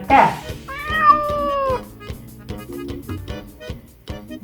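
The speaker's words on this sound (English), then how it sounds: "That is the sound of the cat." A cat gives a short meow followed by a longer, rising and falling meow, close and clear, with rhythmic background music continuing underneath.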